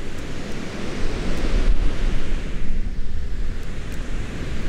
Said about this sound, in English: We on the beach.